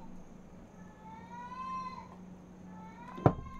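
Cats yowling somewhere in the background of a home during a game livestream, two drawn-out rising meows with harmonics, faint and distant over a steady electrical hum, ending in a brief sharp knock.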